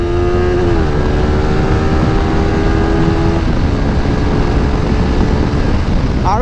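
A Bajaj Pulsar RS 200 motorcycle with its stock 200cc engine and exhaust runs loud and close, a steady droning engine note that shifts pitch as the revs change, with no voices over it.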